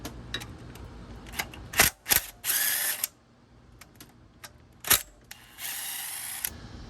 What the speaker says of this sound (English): Using a 10mm socket, we're going to remove these two bolts right here.